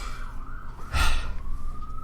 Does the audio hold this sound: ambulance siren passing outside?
yes